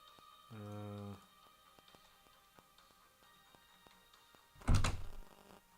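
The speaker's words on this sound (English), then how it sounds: "that's the sound of my bedroom door closing" A bedroom door thuds shut, a heavy low thump near the end, after an earlier hum-like tone and faint ticking in a quiet room.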